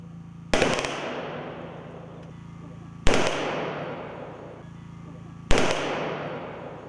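Three loud gunshot blasts from restored insurgent-era weapons at a memorial salute, spaced a few seconds apart, each echoing and fading into a long rumbling tail across open space.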